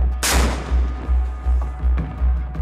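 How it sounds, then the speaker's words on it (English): A Mark 45 5-inch naval gun on a US Navy Arleigh Burke-class destroyer fires one loud, sharp blast, followed by a rhythmic low thumping that continues to the end. "typically a Mark 45 5-inch gun."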